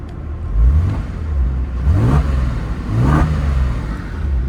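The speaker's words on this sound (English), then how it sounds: "We do have the vehicle running so that you can see that there's no error lights." A 173k-mile Porsche 997 engine idles and revs up in repeated rising sweeps, loud and close, with a deep throaty exhaust note swelling three or four times before settling back.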